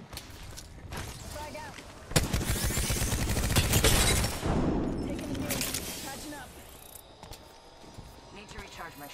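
Gunfire in the battle royale shooter Apex Legends: scattered shots at first, then a dense loud burst of rapid firing for about two seconds, followed by quieter trailing shots and game effects.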